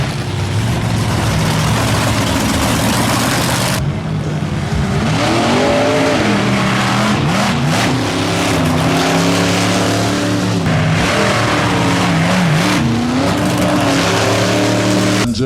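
The Swamp Thing show vehicle runs at a festival of power event, its engine loud and close, rising and falling through repeated revs over a constant rumble, with no voices.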